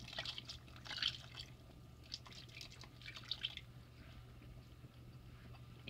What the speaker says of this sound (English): I'm just going to use my water to dilute it to the density of my choice.